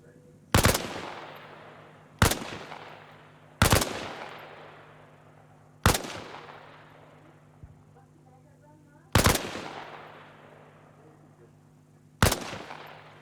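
Six sharp, loud rifle shots in Arma Reforger military training, spaced one to three seconds apart, each with a long decaying echo tail over a low steady hum.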